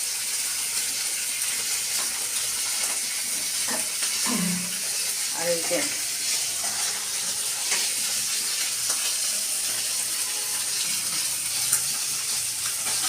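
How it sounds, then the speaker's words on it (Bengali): Raw parshe fish fries in a pan with a steady, close sizzling hiss that runs through the whole stretch, and a voice talks intermittently over it. "কাঁচা মাছ ভাজছি"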